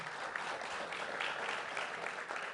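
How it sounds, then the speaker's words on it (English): An audience at a press conference in Buffalo breaks into steady applause, a full, even patter of many hands heard from a short distance without speech on top. "let's give him a round of applause"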